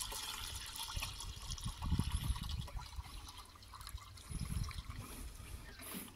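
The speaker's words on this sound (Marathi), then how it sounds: "आता हे आपण पंप भरतोय" Jeevamrut liquid poured into a backpack sprayer pump on a cotton farm, a soft continuous trickle and gurgle with surges of splashing, close but fairly quiet.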